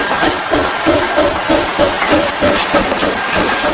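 A small toy train rattles along with a steady, quick clickety rhythm, close by and fairly loud, with no voices.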